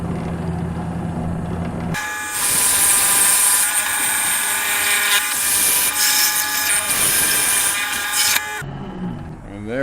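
A drill bit bores into a black walnut mug blank mounted in a lathe chuck, a loud, continuous high-pitched grinding whine that starts abruptly over the lathe's hum, holds steady for about six seconds, then cuts off.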